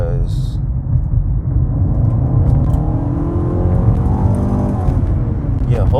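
A 2017 Nissan Altima SV engine holds a steady high idle with a loud, continuous low rumble and whir close by, the drone sustained throughout with a person talking over it.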